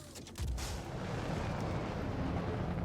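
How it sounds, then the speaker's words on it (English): A stock torpedo launched from a stealth ship in the Star Citizen game: a soft thump, then a deep, steady rushing roar that sustains to the end. "Fire torpedo."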